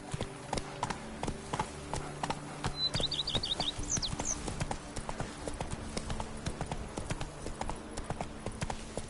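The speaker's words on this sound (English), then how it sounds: "Even a horse drops if you ride it with a constant gallop." Roach, a horse in the video game The Witcher 3: Blood and Wine, gallops with steady, rapid clip-clop hoofbeats at moderate distance, with a brief bird chirp and faint ambient music beneath.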